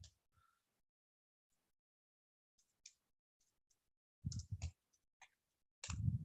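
Keyboard typing on a computer during a software menu and shortcut demonstration, heard as faint scattered clicks followed by a few short bursts of louder key taps, with no talk.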